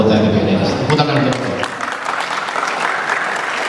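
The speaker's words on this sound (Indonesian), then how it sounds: "Tepuk tangan." Audience applause at an award announcement for a song cover contest, a broad wash of clapping that rises as a voice tails off, then continues steadily on its own.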